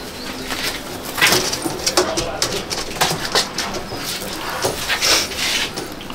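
Pigeons in a breeding loft give soft cooing and rustling with occasional wing flaps, close by and moderately loud over a steady background hiss.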